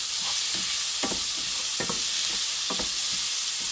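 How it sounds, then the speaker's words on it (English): Vegetables sizzle steadily in a hot pan, a constant bright hiss with several soft scraping stirs of a utensil in between. "you can hear the nice sizzle that's going on in the pan there."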